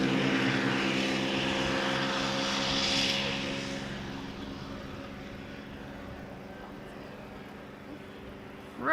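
A KLM Cityhopper Embraer regional airliner arrives at Amsterdam Schiphol Airport, its jet engine roar loud at first, then fading into a steady distant whine over windy outdoor background.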